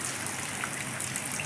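Heavy rain pouring down steadily, a dense, even hiss of falling water with nearby splashing, continuous and fairly loud.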